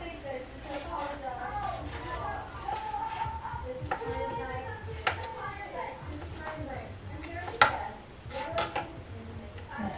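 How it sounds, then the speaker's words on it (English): A knife chops cooked turkey meat on a cutting board for turkey soup, with steady taps and scattered sharper knocks running beneath a person talking throughout. "So here's all my turkey. We're just chop it up nicely."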